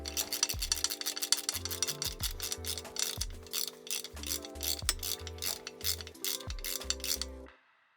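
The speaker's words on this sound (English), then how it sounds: "So we're just going to bolt this back up now and torque it down." A ratchet wrench tightens bolts on a Mercury boat motor during an impeller replacement, giving close, rapid clicking in repeated strokes with brief pauses between them before stopping.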